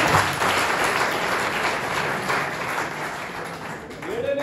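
An audience at a motivational talk bursts into applause, a dense wash of clapping that swells and then thins toward the end as a voice begins to speak.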